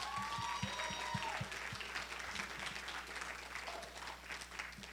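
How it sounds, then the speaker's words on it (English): Audience applause for pastors at a recovery coin night, a steady wash of clapping from a room full of people, with scattered whoops and voices mixed in. "So if you would help me in giving them a round of applause for..."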